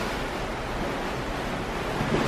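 Ocean waves wash steadily against the hull of a Disney Dream cruise ship at sea, a broad continuous rushing mixed with wind noise on the microphone, fairly loud and unbroken.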